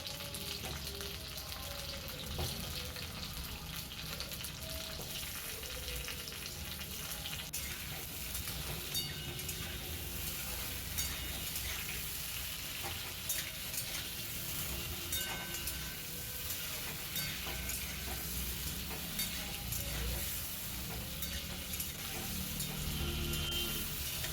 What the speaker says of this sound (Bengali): এবার আলুগুলোকে আমি তেলে দিয়ে খুব ভালো করে নাড়াচাড়া করে লাল লাল করে ভেজে নেব।